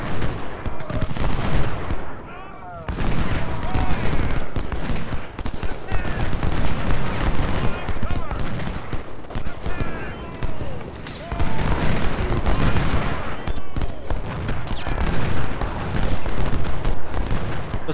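Continuous battlefield gunfire from the American Civil War strategy game Ultimate General: Civil War, with dense crackling musket volleys and booming cannon, loud and unbroken apart from a brief lull, with someone talking over it.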